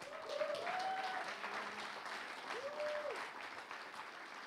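A church congregation applauds during a charismatic Pentecostal worship service, steady dense clapping with a cheering voice rising over it throughout.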